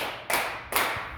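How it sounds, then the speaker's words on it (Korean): Two sharp, crisp hand claps from a church congregation during a sermon, evenly spaced and fairly close, with quiet room tone between them. "박수 3번 시작."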